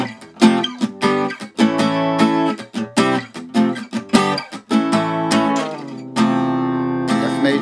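An acoustic guitar is strummed through the chord transition of a song after a rock and roll riff, with rhythmic strokes followed by a long sustained ringing chord and a final strum.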